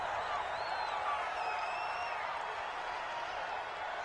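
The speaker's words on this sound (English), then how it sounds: "The crowd here in the Dome making things difficult." Steady indoor stadium crowd roar in Madden NFL 20, a dense continuous wash of noise with faint whistles and cheers rising over it, loud and sustained throughout.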